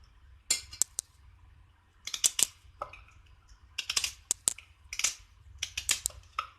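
A small onion is chopped with a knife in a home kitchen, several bursts of quick, close knife taps on a board with brief pauses between them, over a low steady hum.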